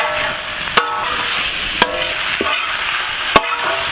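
Prawns sizzle and crackle steadily in hot oil, broken by a few sharp clinks of a utensil stirring the pan.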